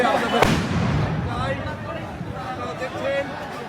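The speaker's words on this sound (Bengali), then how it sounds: "আবারও সাউন্ড গ্রেনেড নিক্ষেপ করা হয়েছে ছত্রভঙ্গ করার জন্য।" A police sound grenade thrown to disperse a crowd during unrest in Bangladesh goes off as one sharp, loud bang near the start, followed by a speaking voice and crowd noise.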